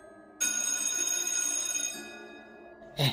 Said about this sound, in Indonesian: Udah bel masuk tuh.